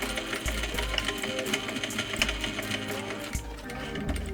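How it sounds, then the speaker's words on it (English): A sewing machine runs in a steady whir, sewing a few short stitches back and forth between two pins to close a trouser front fly zipper, with small pauses and changes in rhythm. "I'm just going to sew a few stitches back and forth right in between these two pins"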